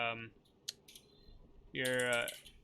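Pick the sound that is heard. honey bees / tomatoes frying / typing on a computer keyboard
typing on a computer keyboard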